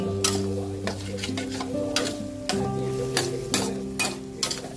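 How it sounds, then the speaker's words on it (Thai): Snails being stir-fried with curry paste in a pan, a spoon or spatula scraping and clattering in repeated strokes over a soft sizzle, with a steady tonal hum underneath. "หอยลงไปผัดให้หอม"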